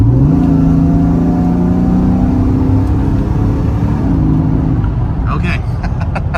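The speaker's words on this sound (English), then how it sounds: "You could hear the supercharger." A supercharged Mercedes-AMG engine, a C32 or E55, revs at half throttle, a loud steady drone whose pitch climbs then settles, with supercharger whine, and a brief clatter near the end.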